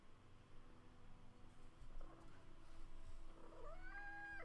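A house cat gives a faint meow near the end, a short rising cry over a low, steady room hum with no one talking.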